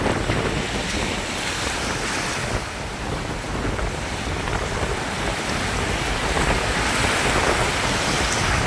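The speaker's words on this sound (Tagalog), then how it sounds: "lumakas na yung hangin at alon." Strong wind roars and waves surge steadily at sea around a fishing boat, with a dense, continuous rush and some rain, loud and without pause.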